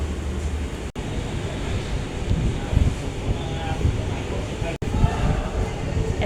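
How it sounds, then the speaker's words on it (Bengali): Strong wind blows steadily outdoors on a hot day beside a tree, a broad rushing roar with gusty swells that continues unbroken for several seconds at close range. "এত সুন্দর বাতাস উঠছে"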